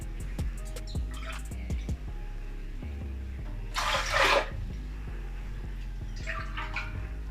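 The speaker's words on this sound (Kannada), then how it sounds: "ಇವಾಗ 3 ಲೋಟ ನೀರು ಹಾಕ್ಕೊತಾ ಇದ್ದೀನಿ." Water is poured onto washed rice in a pot for kichadi. Two short bursts of splashing pouring stand out over a steady low hum and scattered small clinks and knocks.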